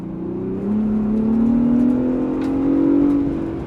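A 2024 Ford Bronco Raptor's engine revs hard and sustained while driving off-road in Baja, a loud, rising drone that swells steadily, then holds, with no talk over it.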